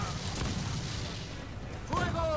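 Ship cannon or mortar fire in Assassin's Creed IV Black Flag thumps in a couple of muffled booms under steady game ambience, someone talking over it.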